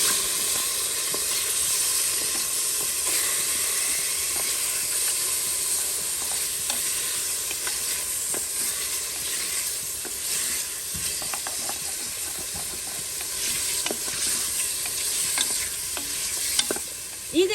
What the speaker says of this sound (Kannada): ಕಲರ್ ಚೇಂಜ್ ಆಗೋವರೆಗೆ ಇದನ್ನ ಸ್ವಲ್ಪ ಹೊತ್ತು ಫ್ರೈ ಮಾಡುವ.